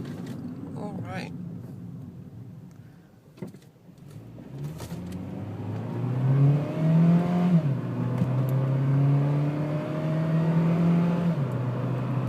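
A 2007 Honda Fit Sport pulls away at about three-quarter throttle, its small engine rising through the revs, dipping at each gear change, then climbing again as a steady drone heard from inside the cabin.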